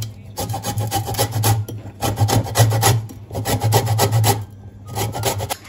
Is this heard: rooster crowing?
no